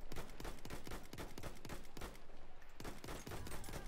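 Rapid pistol gunfire in a Battlefield 1 match, a dense run of sharp close shots in quick succession filling the whole stretch with little pause.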